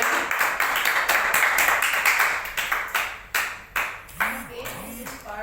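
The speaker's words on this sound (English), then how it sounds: "We give a clap to Inez." Several rounds of hand clapping from a small group, sharp and close, with a couple of voices speaking briefly near the end.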